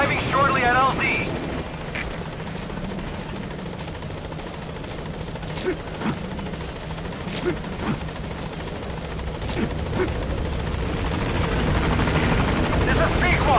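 A helicopter's rotor and engine drone loudly and continuously as the Pequod arrives at a landing zone in Metal Gear Solid V, with occasional radio voices underneath.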